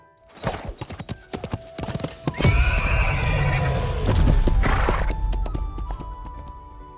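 A horse in a video game gives a loud, close neigh over the quick clip-clop of its hooves as riding begins, with the hoofbeats and neighing lasting several seconds before fading.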